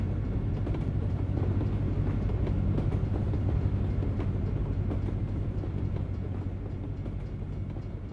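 A short freight train passes in American Truck Simulator with a steady, loud rolling rumble and faint clickety-clack that holds throughout, easing slightly toward the end.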